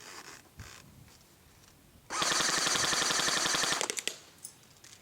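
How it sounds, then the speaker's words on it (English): King Arms 1928 Thompson airsoft gun fired on full auto: a short quiet lead-in, then a loud, rapid, continuous burst of mechanical rattling shots lasting about two seconds, ending in a few sputtering final shots, with no talking. "Let's go full auto."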